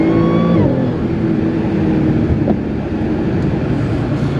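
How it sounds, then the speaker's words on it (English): An APR-tuned 600+ horsepower all-wheel-drive Audi S4 accelerates out of a hairpin, its engine roar steady and loud from inside the car, with a pitch drop early on as it shifts gears. "It corners around the hairpin really nice."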